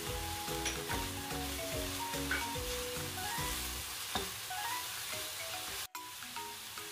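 Riced cauliflower sizzles steadily in a hot pan while being stir-fried for keto Schezwan rice, a continuous close frying hiss with stirring scrapes and a brief break near the end.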